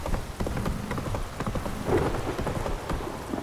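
Heavy rain downpour in The Witcher 3: Wild Hunt video game, a steady dense hiss of falling rain with soft irregular patters, alone and without talk.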